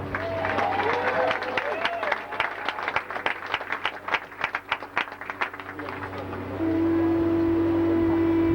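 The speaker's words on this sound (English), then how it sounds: "Ladies and gentlemen, how about honoring our royal couple in return with a round of applause?" A crowd at a Hawaiian celebration honoring a royal couple gives a round of applause. Voices come first, then crisp, scattered claps swell and fade, and a steady sustained tone takes over at the end.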